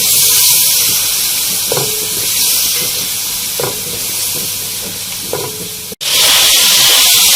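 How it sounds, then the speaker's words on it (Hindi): Chicken sizzles loudly in a hot karahi with garlic and ginger paste, a dense steady hiss with a few soft stirring scrapes, briefly cut off before the frying noise returns. "चिकन को हम यहाँ पे फ्राई करेंगे"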